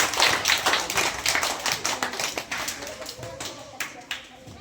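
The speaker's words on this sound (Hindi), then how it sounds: "इनके लिए जोरदार ताली" Classroom clapping for a student who answered a riddle in a school quiz during a language summer camp: a ragged burst of individual claps near the listener, fading and thinning over several seconds.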